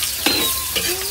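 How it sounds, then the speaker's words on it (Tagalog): Chopped onion and garlic sautéing in a hot pan for mung bean stew, a bright steady sizzle with stirring scrapes, close and loud. "Sangkutkan natin ang ating sibuyas at bawang."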